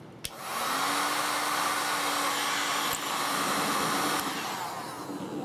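A heat gun blows on a braided cable sleeve to shrink it, a loud, steady whooshing drone with a faint whine, close by and alone, with a couple of sharp clicks.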